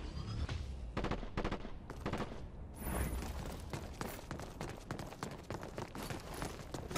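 Rapid automatic gunfire from the Dirty Bomb shooter, with repeated sharp shots in quick bursts and a steady run of cracks over several seconds, loud and close with no voice.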